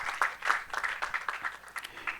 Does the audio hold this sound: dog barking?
no